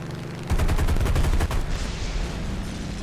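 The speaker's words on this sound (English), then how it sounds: "Trying to snipe out anything that I see." Rapid gunfire in a video game while sniping, a fast burst of repeated loud shots lasting about a second, followed by lingering battle noise.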